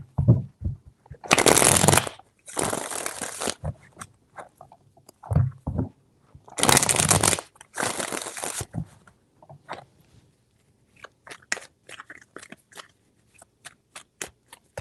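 Tarot cards are shuffled close up in several quick riffling bursts, each a crisp flutter lasting about a second, separated by pauses and lighter tapping and handling of the deck.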